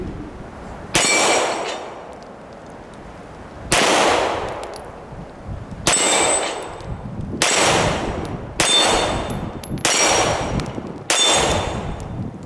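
Rifle rounds are fired at an outdoor range at steel targets, with seven sharp, loud shots, each followed by a ringing clang, spaced a couple of seconds apart and quickening toward the end.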